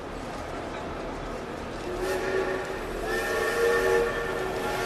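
A train rumbles steadily at a moderate distance, then sounds its horn in sustained tonal blasts over the rolling noise, with faint ambient voices in the background.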